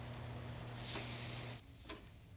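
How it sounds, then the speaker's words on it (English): Food sizzling and frying on a grill in a Star Wars: Andor scene, a steady crackling hiss that drops off partway through, leaving a faint background with a brief tick. "Look at Cassian frying up something on the grill."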